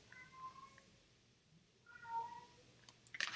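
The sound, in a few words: cat crying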